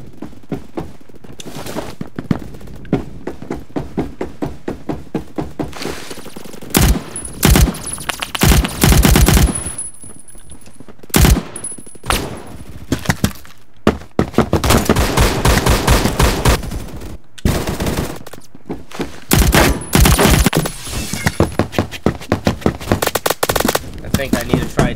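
Automatic gunfire in Phantom Forces on a subway station map, loud repeated rapid bursts and single shots, with brief gaps and other game sounds between them.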